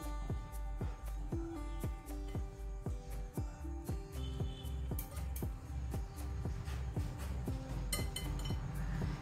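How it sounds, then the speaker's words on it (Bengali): A spoon mixes dry ingredients for an eggless, oil-free cake, including baking soda and chopped nuts, in a bowl, making rapid, regular clinks against the bowl, close and steady throughout. "এবার সমস্ত উপকরণটা একবার একটু এইভাবে মিশিয়ে নিচ্ছি"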